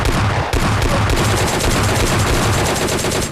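MK14 rifle fire in the game PUBG Lite: loud, rapid bursts of close gunshots in a dense rattling stream with one brief gap, no talking.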